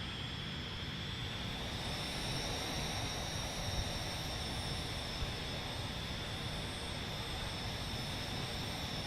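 Simulated F-16 jet engine roars at takeoff in a flight simulator, a loud, steady broadband rush with a high whine, holding constant without a break.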